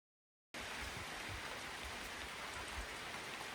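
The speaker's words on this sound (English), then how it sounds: "It might be raining this morning" Steady, dense morning rain on a private island in the Togean Islands, Sulawesi, hisses continuously after a brief silence, an even wash of drops with no voices.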